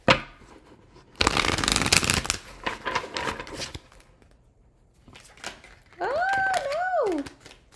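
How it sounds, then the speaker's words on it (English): A deck of tarot cards is shuffled close to the microphone in a rapid, rustling riffle, then shorter flicks follow; another sound with a sliding pitch enters near the end. "Two more shuffles."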